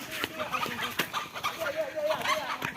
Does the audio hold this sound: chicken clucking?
yes